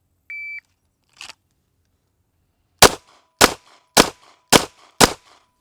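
Pistol fired at a target from 10 yards: a short electronic beep, a faint click, then five sharp, loud shots in an even rhythm about half a second apart.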